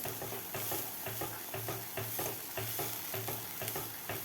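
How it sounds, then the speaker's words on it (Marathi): Dry spices are stirred and fried into a masala for a restaurant-style veg Kolhapuri over medium heat, a soft sizzle broken by regular scraping strokes of a spoon, fairly quiet and without voices. "आता हे मसालेसुद्धा आपल्याला चांगले परतून घ्यायचे आहेत खालच्या मसाल्यामध्ये"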